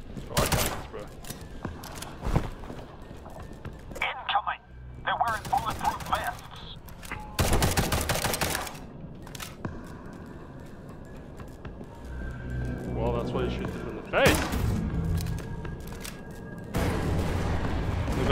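Bursts of gunfire in the video game Liberated, loud sharp volleys that erupt in a few separate clusters over a busy game soundtrack, with a voice talking at times between them.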